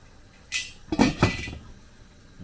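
Lid set back onto a cooking pot of Filipino-style tom yum, giving a few close metallic clanks and clinks within about a second, then quiet.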